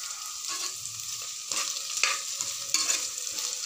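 Mixed vegetables sauté in a little oil in a pan for a veg pulav, a constant close sizzle broken by several sharp stirring scrapes.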